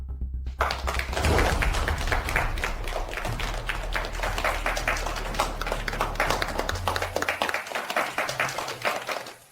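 A crowd claps to welcome a company director, starting abruptly after a moment of silence and carrying on as dense, energetic applause with a low rumble underneath, tapering slightly near the end.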